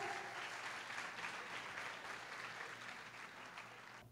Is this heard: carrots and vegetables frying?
no